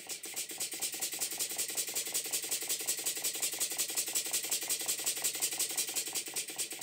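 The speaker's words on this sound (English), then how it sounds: "I've speeded up the engine and nothing's fallen off." A Stuart Number 9 model engine runs steadily in a workshop, giving off a fast, even mechanical beat of rapid ticking strokes at a constant, moderate level with no one speaking.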